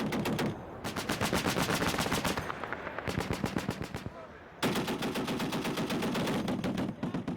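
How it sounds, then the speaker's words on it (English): Marines fire armor-piercing incendiary rounds from machine guns on a live-fire range: long, loud, rapid-fire bursts of gunshots rattle in close succession, broken by brief pauses between strings of fire. "Today we had the armor-piercing incendiary rounds. It's basically showing you where those rounds are landing"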